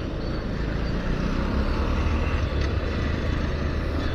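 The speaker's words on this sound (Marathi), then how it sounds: "ही मी चालवतोय ती वर्षाची ॲक्सेस 125 चालवतोय." A Honda Access 125 scooter rides between Thane and Bhiwandi, its engine a steady drone under loud, continuous wind buffeting the microphone, with no talk.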